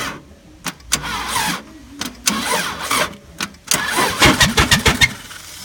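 Engine starting attempt on a 1999 Subaru Legacy station wagon, a close, loud series of cranking bursts with stuttering starter whirs that speed into rapid pulses near the end, without catching.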